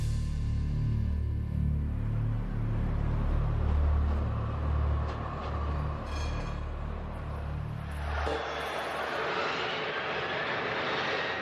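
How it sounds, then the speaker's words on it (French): A plane, identified as the deposed president's aircraft, takes off in Tunisia; a loud, steady engine roar with heavy low rumble builds and shifts to a brighter, hissing jet tone near the end. "le seul avion qui décolle, c'est celui du président déchu"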